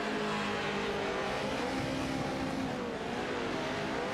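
Racing truck engines in a sim racing game at Watkins Glen, a pro truck passing a slower lapped car, with a constant dense roar of engine noise and tire hiss throughout and no clear break.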